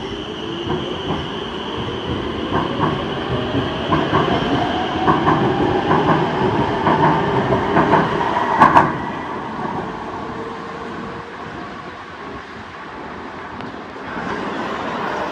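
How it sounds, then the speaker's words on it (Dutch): A metro train bound for Hoek van Holland pulls into a station, with a rising electric motor whine, steady rumbling and clattering wheels, a brief sharp squeal near the end, then quieter idling. "ga ik lekker wachten op de metro naar Hoek van Holland Strand"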